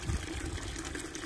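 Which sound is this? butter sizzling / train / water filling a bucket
water filling a bucket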